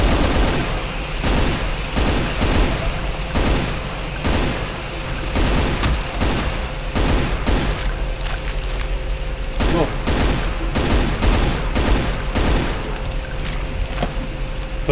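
Rapid enemy gunfire in the Brutal Doom game, bursts of loud shots cracking in quick irregular volleys throughout, with a voice talking now and then.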